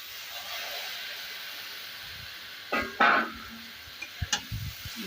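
Sprouted moth beans (matki) sauté in hot oil with a steady, faint sizzle and hiss, broken by a few scraping stirs of a spoon against the pan near the end.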